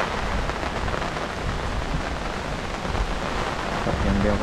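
Heavy rain falls steadily on a campsite in Khao Yai National Park, Thailand, making a loud, dense hiss of drops on surfaces. A voice speaks faintly under the downpour near the end.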